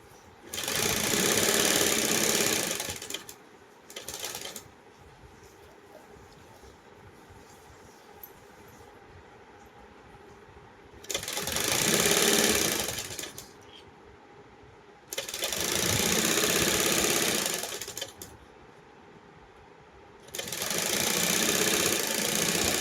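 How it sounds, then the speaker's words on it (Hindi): Sewing machine stitching a Krishna costume, running in loud bursts of rapid rattling stitches separated by quiet pauses, four main runs close by with no talk. "अब इसको हम सिल देंगे"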